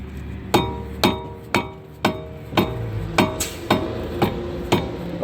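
A rubber mallet strikes a rusted brake rotor on a Dodge Dart in a series of about ten evenly spaced, sharp, ringing metallic knocks, close and alone.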